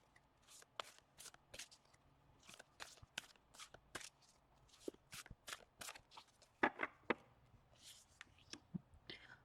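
Tarot and oracle cards shuffled and pulled from a deck, a close, quiet run of crisp riffling bursts and flicks in irregular rhythm, with faint whispery sounds between them.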